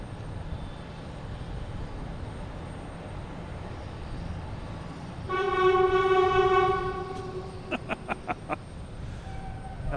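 Near Boston Logan Airport, a horn blares in a long steady chord over rumbling background noise, followed by a quick series of short, sharp horn blasts.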